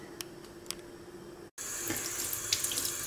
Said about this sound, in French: Donc vous les passez sous l'eau du robinet.